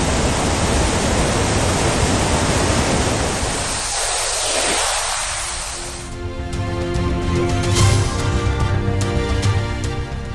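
A waterfall in Bihar swollen into a flood by continuous heavy rain, roaring with muddy water as a dense, steady rushing wash; partway through, a faint tonal musical layer joins the roar.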